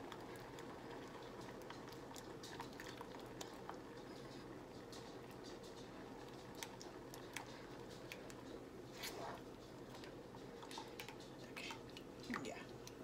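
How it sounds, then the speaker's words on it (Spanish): Coconut-milk rice pudding with mango bubbles and simmers in a pot, a steady low crackling, popping boil with scattered tiny ticks and drips, close and fairly quiet throughout. "Esto está hirviendo, entonces vamos a mover."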